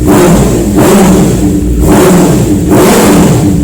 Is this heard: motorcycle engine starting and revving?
yes